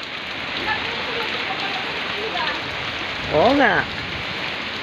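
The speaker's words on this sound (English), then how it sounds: "The rain is so very strong." Heavy rain pours steadily during a typhoon, a dense, loud hiss throughout, with brief voices talking over it midway.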